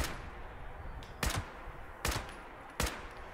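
Three sharp, loud gunshots from a rapid-firing weapon in the Fallout video game ring out at spaced intervals, each a brief broadband crack over a low background hum, with no talking.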